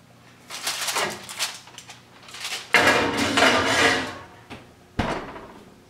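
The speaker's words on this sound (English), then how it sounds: "So now I'll place the aluminum foil on top. And into the oven it goes." A foil-covered cheeseburger mac and cheese dish goes into a home oven, with clattering of the dish and foil, scraping and rattling of the rack, and a final thud as the door shuts; nearby and moderately loud, no talk.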